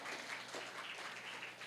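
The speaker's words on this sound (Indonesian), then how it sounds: "Berikan tepuk tangan bagi Yesus Tuhan kita." A church congregation applauds together, a dense, even patter of many hands clapping at moderate volume and holding steady without pause.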